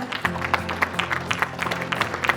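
At the Kalptaru Awards 2022 ceremony in Rajasthan, an audience claps in a brief, close burst of uneven, rapid hand claps over a low steady hum.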